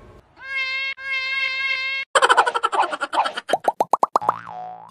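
A house cat meows twice in long, clear calls, followed by a rapid run of bouncy, springy boing-like sounds and pops, loud and close with no talking.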